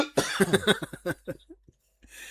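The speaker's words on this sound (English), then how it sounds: "Sorry, coughing fit." Someone close to the mic has a coughing fit: a quick burst of harsh coughs that tapers into a few weaker ones, then a short pause before a breathy sound.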